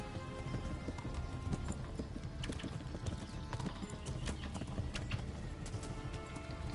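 Horse hooves in the video game Kingdom Come: Deliverance, a rapid continuous clip-clop of a galloping horse, steady and close, with faint background game ambience.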